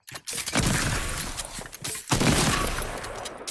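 Dense bursts of rapid gunfire from the video game Fortnite, loud and close, in two sustained volleys split by a short gap.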